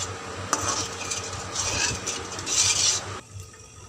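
Masala gravy for arbi leaf kofta cooking in a pan, a soft steady sizzle with spoon scrapes and stirring noises, close by, fading out near the end.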